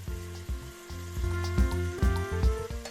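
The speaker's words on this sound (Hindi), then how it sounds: "लहसुन और अदरक को 2 मिनट भूनने के बाद हम इसमें कटी हुई टमाटर डाल देंगे और अच्छे से चला लेंगे" Chopped tomatoes sizzle in a pan of frying garlic and ginger while a spoon stirs them, a steady loud crackle broken by rhythmic scraping strokes, close up with no voices.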